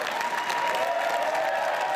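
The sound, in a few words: applause in the Ontario legislature chamber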